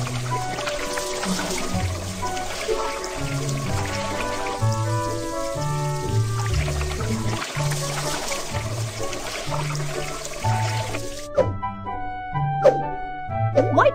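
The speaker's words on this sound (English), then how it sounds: "Water can rinse off the dust in the eyes." Water splashes and drips in a Little Panda Hospital game scene where eyes are rinsed, with patters and trickles over a cheerful musical background, ending in a few scattered drops.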